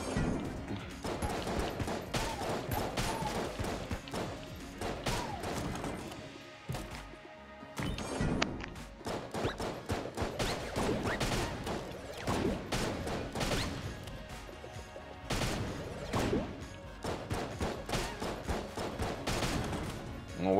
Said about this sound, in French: On voit, c'était des grenades.